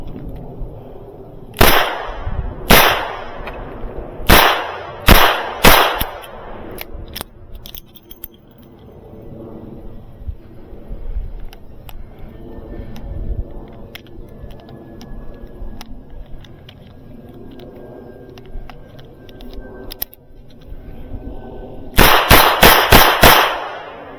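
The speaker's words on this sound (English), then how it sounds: "How quickly can I empty the firearm into a reasonable sized target?" Rapid pistol fire from an S&W 360PD revolver and a Manurhin PP at a shooting range: a quick string of loud, sharp nearby shots, a long quieter stretch, then another fast burst of shots near the end.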